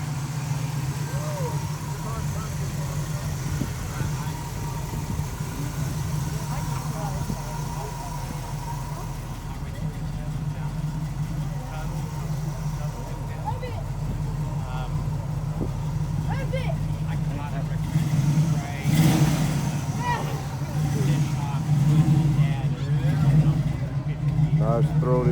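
American muscle car at an outdoor car show in Oklahoma, engine idling with a deep, throaty exhaust rumble that swells briefly as it revs, steady and close, with crowd noise and voices in the background.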